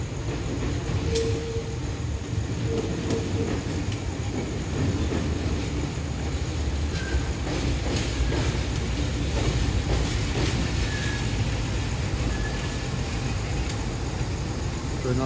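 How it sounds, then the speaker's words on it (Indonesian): A train shunts at an Indonesian station beside a closed level crossing, a continuous rumble of wagons rolling past nearby with faint squeals and clanks. A voice talks briefly over it. "Nah, aku kira keretanya, ternyata ini langsir aja"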